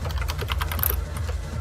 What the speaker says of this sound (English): began pressing keys all around us